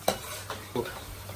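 Fried boondi scooped out of hot ghee with a slotted ladle while making motichoor ladoo, three short scraping, stirring clinks over a low sizzle, close and fairly quiet.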